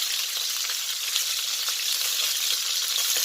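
Pork pata skin frying to brown for Bisaya humba gives off a steady, dense sizzle. The crackle is constant and close, with small pops, and no one speaks.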